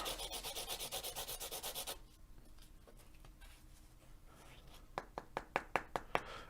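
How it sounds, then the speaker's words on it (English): A large graphite drawing stick rubbed on a sheet of sandpaper: quick, even scratchy strokes for about two seconds, then quieter scraping and a few sharp taps close by. "I just take a sheet of sandpaper and I sandpaper this."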